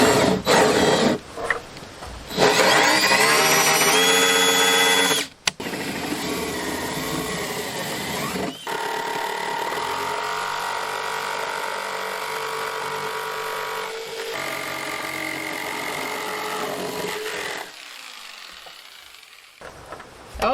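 A power tool blade cutting a ventilation hole for a PC fan bus, a loud continuous whining buzz with a strained tone that falters and restarts, briefly cutting out several times before trailing off.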